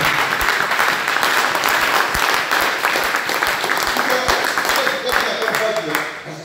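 A church congregation applauding during a sermon, giving a loud, dense wash of clapping that fills the space and stays steady throughout, with voices mixed in underneath.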